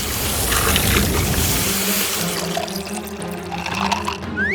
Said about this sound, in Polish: Britney, jeśli masz wodę w tej konewce, to szybko ją na mnie wylej!